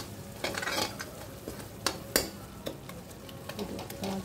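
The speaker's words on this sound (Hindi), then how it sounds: "देखिए ऐसे अच्छे से सॉफ्ट हो गए हैं, इनको थोड़ा घोट लेंगे।" Softened potatoes for a vrat potato curry are stirred and mashed in a pan, with faint sizzling under soft scraping strokes and a couple of sharper taps of the spoon against the pan.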